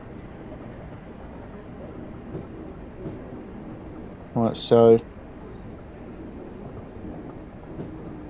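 A Class 313 EMU electric train in Train Simulator 2017 runs with a steady low rumble from North Woolwich toward Stratford, while someone talks briefly over it partway through.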